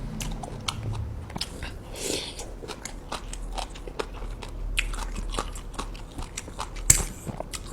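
Someone eats a rice ball made with Japanese rice, close-up bites and chewing in a run of soft crunchy, sticky clicks and smacks, quiet and steady without talk.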